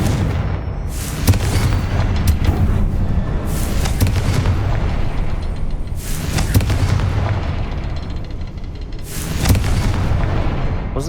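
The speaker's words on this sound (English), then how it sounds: "Confringo." Confringo blast spells in the game Hogwarts Legacy land as a series of heavy booming explosions, each with a sharp crack and rumbling tail, over dense continuous combat noise.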